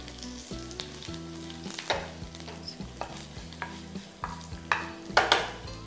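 A tempering of fenugreek seeds, mustard seeds, cumin and dried red chillies fries in hot oil with a steady close sizzle and crackle, broken by scraping stirs of a spoon in the pan; no one speaks.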